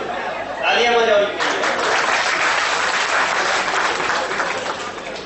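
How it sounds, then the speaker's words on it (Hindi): A crowd at a talk bursts into lively, sustained clapping. A voice and a bit of laughter rise over it briefly near the start, and then the applause carries on steadily. "तालियां बजाओ।"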